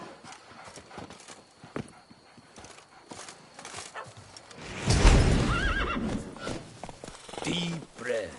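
In the Witcher 3 video game, a horse gives a loud close whinny amid rhythmic clip-clop hooves from trotting, with game character voices speaking around it.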